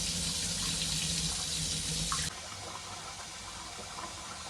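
Water running from a tap into a mix of haleem lentils to soak them, a steady close rush for about two seconds that then stops and leaves faint trickling and background noise, with no talk.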